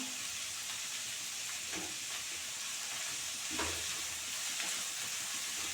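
Arai keerai, amaranth greens, sautéing in a pan, a close, steady hissing sizzle with soft stirring scrapes now and then, continuous and even, with no talking.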